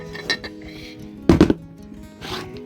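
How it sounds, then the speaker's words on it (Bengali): A new kadai cooking pan, unwrapped and handled, gives a few sharp metallic clinks and clanks, the loudest a knock near the middle, with soft packaging rustle between. "এই যে কড়াই"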